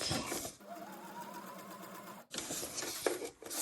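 A sewing machine stitching a leaf onto a junk journal page, running in a steady whirring burst between brief pauses, close and fairly quiet.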